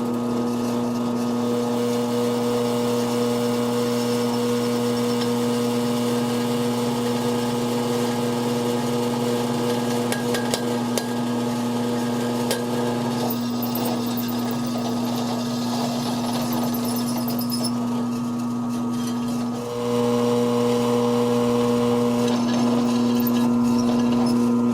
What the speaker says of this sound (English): So let's go ahead and get this drilled now.